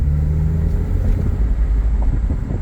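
A 2004 Porsche 911 Carrera Cabriolet engine rumbles loudly and steadily from inside the car as it shifts into third gear, with no talk over it.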